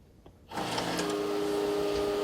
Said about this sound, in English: And then I got this like robotic assembly sound